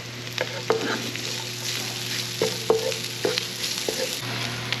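Garlic and onion sizzling in hot oil in a pan, a steady frying hiss under repeated clinks and scrapes of a spatula stirring, close and continuous.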